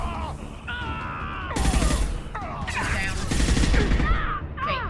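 Gunfire rattles in bursts through a chaotic Mass Effect 2 battle, layered with sci-fi weapon whines, impacts and pained groans, loud and dense throughout.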